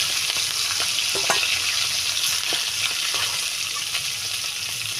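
A catla fish head fries in hot oil in a pan, giving a close, steady sizzle with dense crackling and occasional sharper pops throughout, no voices present.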